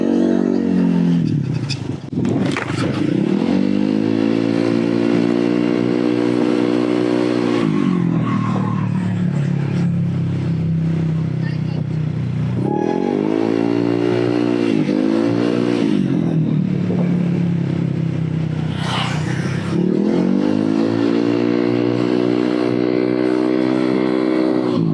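A Honda ADV 160 scooter engine revs up loudly three times, each pitch climbing as it accelerates, then dropping back between pulls.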